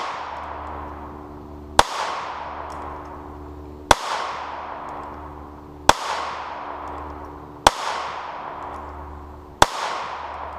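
Jimenez JA-22 pistol firing CCI Mini-Mag .22 rounds at 7 yards on a range: five loud, evenly spaced sharp reports about two seconds apart, each trailing into a reverberant decay.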